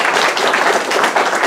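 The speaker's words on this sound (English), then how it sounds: "I'm going to ask all of you to give them a round of applause" Church congregation applauding during a worship service, a dense, steady wash of many hands clapping at close range throughout, with no gaps.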